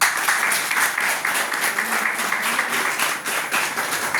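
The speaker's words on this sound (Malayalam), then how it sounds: "ആ ഉത്തരം പറഞ്ഞാൽ ഒരു കയ്യടി കൊടുക്കാം" Audience applause at a motivational business talk, dense steady clapping from a large crowd, loud and sustained throughout without a break.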